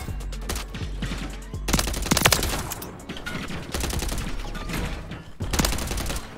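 Bursts of video-game gunfire from Call of Duty: Modern Warfare 3, dense rapid automatic shots in several clusters over a steady low rumble, loud and close with no talking.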